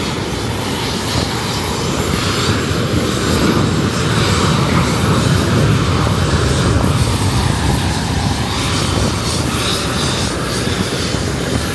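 A steady, loud droning of a small InterCaribbean Airways propeller plane engine at an airport in Barbados runs throughout with a constant whirring hum and no talking.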